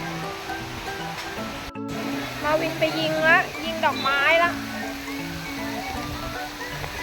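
Water streams steadily down the waterfall zone of a water park at Grande Centre Point Space Pattaya. The broad, even rush runs throughout while a voice talks over it.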